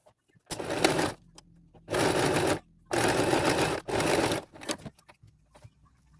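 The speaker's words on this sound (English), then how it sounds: "I'm just going to sew at the sides and across the bottom." Sewing machine stitching felt pieces for a farm-animal busy book page, running in four loud, close bursts of steady whirring separated by brief pauses and small handling clicks.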